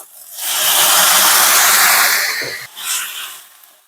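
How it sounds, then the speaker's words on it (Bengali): Water poured into a simmering paste of ground poppy seeds and mustard with salt and turmeric sets off a loud, broad hiss that swells, holds steady, dips briefly, then flares again before fading. "সামান্য একটু জল দিয়ে দিচ্ছি"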